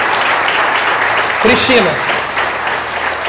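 A church congregation applauds in a dense, continuous patter, while a voice calls out over the clapping.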